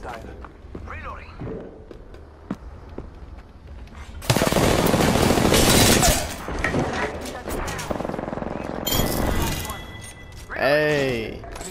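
Gunfire in a video game firefight: bursts of rapid automatic shots, with one long, loud dense volley and several shorter rattling bursts. Voices shout and talk between and over the shooting.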